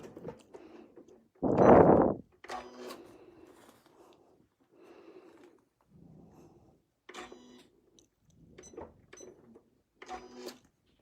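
Home sewing machine tacking fabric while stitching a continuous motif: a loud, short run of stitching near the start, followed by quieter scattered clicks, rustles and handling noises with gaps of silence.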